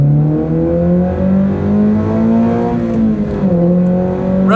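A Subaru BRZ pulls hard under steady acceleration, its engine note climbing in pitch, then dipping briefly at a gear change before rising again. It is loud and continuous, heard from inside the car with no talking.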